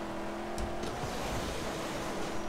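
A continuous mechanical car engine drone in the video game Mad Max hums at a steady pitch, with a faint whoosh and a couple of brief high clicks over it, and no talking.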